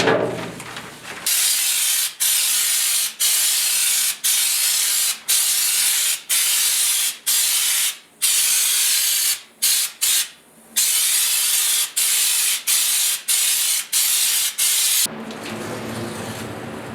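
Spray gun coating the underside of a 1972 Ford F100 4x4 pickup in a loud, close hiss, fired in a long series of even bursts separated by brief pauses.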